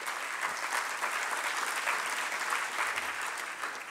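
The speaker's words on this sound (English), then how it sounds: "give yourselves a big round of applause" Steady applause from a conference audience fills the room, dense and continuous clapping at moderate distance with no voices standing out.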